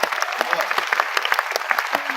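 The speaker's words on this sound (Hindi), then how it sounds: "तालियां रोकना।" An audience at a Hindi comic poetry recital claps in a brisk, crowded burst, sharp overlapping hand claps continuing evenly from start to end, fairly close and loud.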